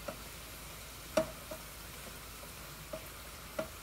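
Spinach cooks in a frying pan for shakshuka, with a soft steady sizzle and a few faint clicks and taps of a utensil stirring, scattered and irregular, with no one talking.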